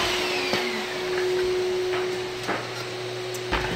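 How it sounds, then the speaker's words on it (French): A Flex Giraffe GE5 drywall sander runs steadily with a constant motor whine and airy suction roar, broken by a few brief scraping knocks against the wall. "c'est la petite démo de la Flex. Vraiment là, une super belle sableuse."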